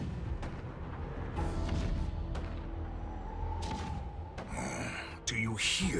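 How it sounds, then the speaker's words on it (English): Deep rumbling booms of cannon fire rolling through a Honkai: Star Rail game soundscape, several heavy blasts with bright crackling bursts near the end. "hear that? The rumble of the cannons."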